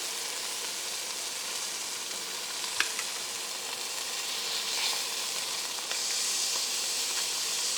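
Chicken breasts sear in a hot pan with a steady, close broadband sizzle and hiss, broken by a few brief clicks and taps, with no voices.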